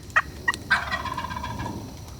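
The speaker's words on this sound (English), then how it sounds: "The Tom gobbled, apparently trying to pull the hen to him" A wild turkey tom gobbles once, a loud rattling call from close by, set apart by a few brief sharp notes just before it in open woodland.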